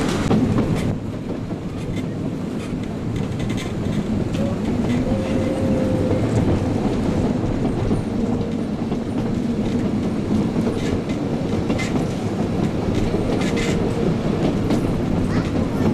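Ardèche tourist train rolls along the rails between Tournon and Lamastre with a steady rumble and rhythmic clickety-clack of wheels, and a voice talks over it throughout.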